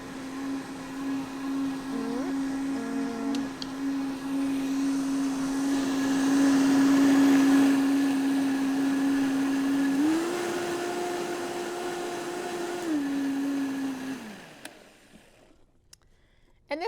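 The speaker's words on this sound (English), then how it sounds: "We just want to blend that so the onion and the peppers and all that get blended down nice." A kitchen blender whirring through onion and peppers for a vegan enchilada sauce, a steady motor drone that rises in pitch partway through, then winds down and stops near the end.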